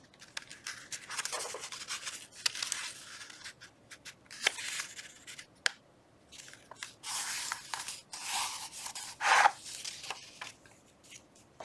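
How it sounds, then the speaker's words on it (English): A paper page being folded down in an altered book journal, with crisp, close crinkling and rubbing in short bursts separated by quiet pauses. "I just need to fold this one down."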